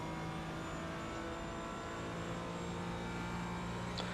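Race car engine in a VR racing simulator at Virginia International Raceway, a steady, loud, continuous engine drone with sustained tonal whine holding near constant pitch, alone without talk.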